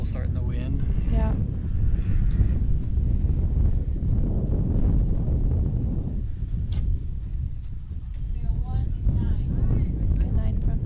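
Strong wind buffets the microphone at an outdoor recurve archery gold-medal match, a continuous low roaring rumble with people talking over it.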